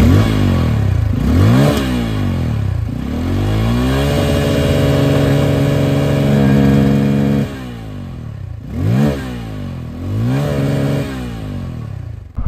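Exhaust of a red 2024 Bajaj Pulsar N250 motorcycle being revved close by, with repeated sharp throttle blips rising and falling, a longer held rev in the middle, then more quick revs over a steady idle.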